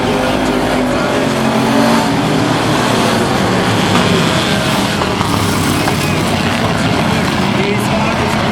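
Thunder truck race cars roar around a dirt track in a loud, continuous pack, engines snarling with occasional tire squeal, while an announcer talks over the racing.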